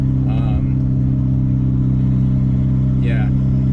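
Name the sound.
turbocharged car engine accelerating hard during a pull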